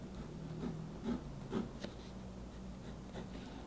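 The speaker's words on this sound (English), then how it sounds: "it writes really well. Let's see if there's any line variation." A Sheaffer 330 fountain pen with an inlaid nib scratches softly across paper, faint close-up writing strokes with a few slightly stronger marks over a quiet background.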